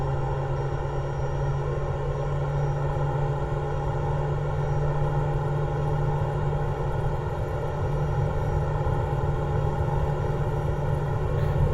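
A Pilatus PC-12 single-engine turboprop at takeoff power in the flight simulator MSFS 2024, heard from inside: a loud, steady propeller drone with a constant hum and whine that holds unchanged throughout.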